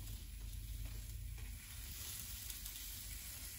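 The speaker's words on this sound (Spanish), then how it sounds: "estamos cocinando un chile." A chile sizzles while it cooks, made alongside a pure fresh-corn mixture for tamales. The frying hiss runs steady and close the whole time, with a low rumble underneath and no voices.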